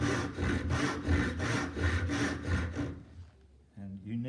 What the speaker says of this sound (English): I've actually got to hold the saw on a slight angle.